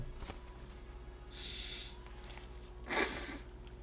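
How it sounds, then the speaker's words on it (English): A person tries to blow their nose: two faint, breathy nasal snorts a second or so apart, close but quiet against a low background hum. "Let me see what happens when I blow my nose."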